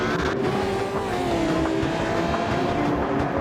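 Top-category race cars in a sim racing game scream through a technical, low-speed circuit, their loud engines blending into a continuous, wavering roar with no voices over it.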